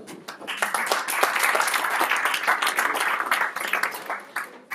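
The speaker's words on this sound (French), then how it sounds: "on peut les applaudir" A conference audience applauds guests joining the speaker on stage, a dense burst of clapping that swells, holds for several seconds and then tapers off with a few last claps.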